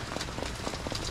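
Rain falls steadily outdoors during a wet day, a dense continuous patter of drops close by with no voices over it.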